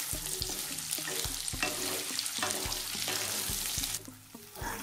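Carrot, cauliflower, potato and beans fry in a pan for vegetable pulao, a close, continuous sizzle broken by regular spatula knocks and stirring, with a short quieter moment near the end; no talking.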